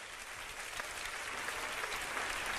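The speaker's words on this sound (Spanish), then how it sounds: "Un aplauso para ellos." Sustained audience applause at a Spanish comedy concert show, a dense, steady wash of clapping hands throughout, with a faint voice or two underneath.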